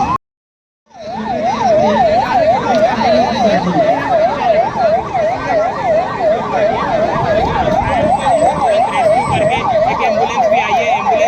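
An ambulance siren wails loud and steady at a civil mock drill, its rising and falling tone cycling rapidly and continuously after a brief silent start, with traffic and crowd noise underneath.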